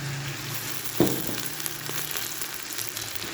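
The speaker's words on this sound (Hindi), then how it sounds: "इसको हम फ्राई करेंगे।" Chicken keema frying in a pan with garlic ginger paste gives a soft, steady sizzle with a brief clatter of stirring, heard close but fairly quiet.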